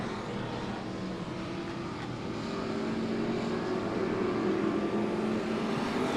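Race cars lapping Monett Motor Speedway during a feature race, a steady loud roar of several engines droning continuously and building slightly, with no nearby voices.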